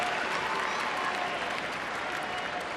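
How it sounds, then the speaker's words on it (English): Dense, sustained roar and applause from a stadium crowd at a women's international football qualifier between Wales and Kosovo, loud and continuous with a broad, unbroken wash of cheering. "you heard how excited the crowd were by this through ball"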